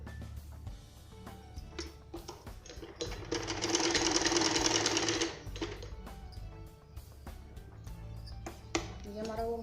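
A sewing machine stitches blouse belt strips in one loud, fast burst of whirring needle strokes lasting a few seconds. Scattered clicks and handling sounds of fabric come before and after it, close by.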